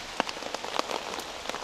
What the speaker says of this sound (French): je me suis fait un petit peu attraper par la pluie